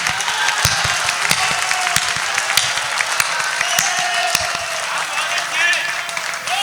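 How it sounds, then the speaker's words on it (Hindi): Audience applause at a devotional poetry recital, a steady wash of clapping from a crowd that holds fairly even throughout, with scattered sharper claps standing out. "इतनी बढ़िया पंक्ति के लिए इतनी कम तालियां नहीं चलेगी"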